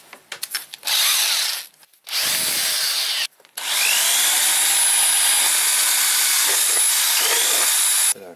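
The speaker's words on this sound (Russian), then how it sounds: "берем такую вот зенковку" A power drill fitted with a countersink bit grinds into metal, widening a 17 mm hole for a small casting furnace in a garage workshop, in loud sustained bursts of several seconds broken by brief pauses.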